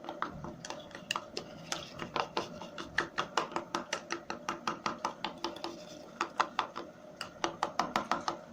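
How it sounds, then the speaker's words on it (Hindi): Homemade hand cream is mixed in a bowl, making a quick, steady run of light clicks and taps as the utensil strikes the sides, close and fairly quiet, with no talking. "अच्छे से मिक्स करेंगे।"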